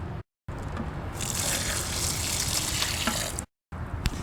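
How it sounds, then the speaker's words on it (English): Water pouring steadily into a large batch of homemade Holi powder mix, a continuous gushing, splashing rush with two brief cut-offs, close and fairly loud with no talk. "I'm going to go ahead and add some more water."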